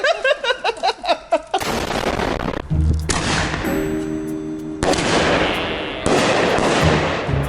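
Large 5-inch firework mortars burst in a series of loud, booming blasts with crackling, rushing tails and echoing rumble, several heavy explosions close together.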